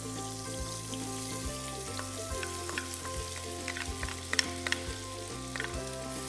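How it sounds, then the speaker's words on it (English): Onion, garlic and green chilies fry in a pan with a steady crackling sizzle, near and continuous, with faint spatter pops and occasional utensil clicks, and low music running underneath. "a couple of cloves of garlic and 2 of the green chilies, which I'm going to add to the pan now"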